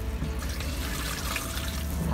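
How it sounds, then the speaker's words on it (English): Water pouring steadily into a campervan toilet cassette, a continuous close splashing stream. "Add a litre of water."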